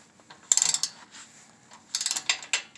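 Socket wrench bolting a skid plate onto a second-generation Toyota Tacoma, with two short bursts of rapid ratcheting clicks separated by a quiet pause, close and crisp.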